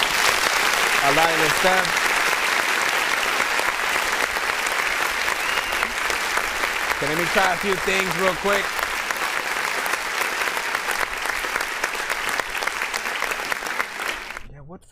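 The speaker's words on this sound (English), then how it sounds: "Let's go ahead and clap" Steady audience applause runs loud and continuous for nearly the whole stretch, with someone talking over it in places, before cutting off abruptly near the end.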